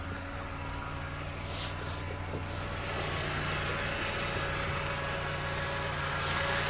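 A Volkswagen Jetta engine idles with a steady, low hum throughout, a constant mechanical drone with faint vibration and no voices.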